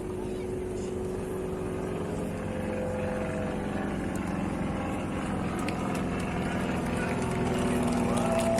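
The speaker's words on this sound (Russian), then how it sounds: "звук двигателя" A steady aircraft engine drone hums throughout, with a low rumble and faint tonal whine holding constant at moderate distance.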